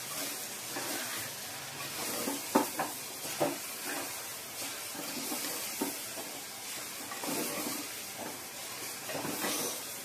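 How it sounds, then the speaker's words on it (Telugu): Bengal gram flour (besan) with salt frying in a pan, a steady soft sizzle and hiss with occasional stirring scrapes throughout, no voices. "బెంగాల్ గ్రామ్ వేసి కొంచెం సాల్ట్ వేసి వేయించాలి"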